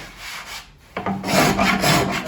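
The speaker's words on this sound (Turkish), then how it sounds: "etrafını bu şekilde pastrangollayacağız" A pastrangol shaves the mulberry wood body of a saz, one pause and then a burst of loud, close rasping strokes across the wood.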